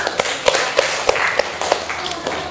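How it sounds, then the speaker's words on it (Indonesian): An audience at an Islamic education class in Bandung claps in scattered, uneven bursts, with sharp taps over a noisy room murmur. "kasih tepuk tangan"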